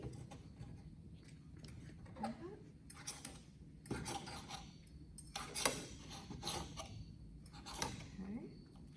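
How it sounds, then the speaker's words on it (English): A knife and fork cut cinnamon French toast into bite-sized pieces on a plate, giving quiet scattered clinks and scrapes of cutlery against the dish in a calm kitchen, with no one speaking. "I'm gonna cut it into small bite-sized pieces"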